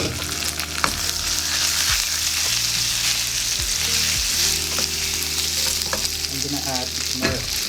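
Pork marinade with red bell pepper stir-frying in a pan, a steady loud sizzle broken by several scrapes and clatters of a utensil tossing the food, with no talking.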